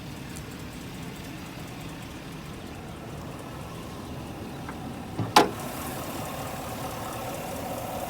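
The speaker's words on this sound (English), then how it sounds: "Let's check out the motor." The engine of a 2019 Chevrolet Silverado High Country pickup idles as a faint, steady low rumble, broken once by a brief sharp click.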